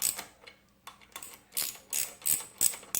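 A ratchet wrench tightens 14 mm bolts on a Troy-Bilt pressure washer, giving about six or seven short bursts of close, loud metallic clicking with brief pauses between strokes.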